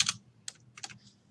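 Numbers typed on a computer keyboard, a few quick close keystroke clicks in uneven bursts, with no voices, in a quiet room.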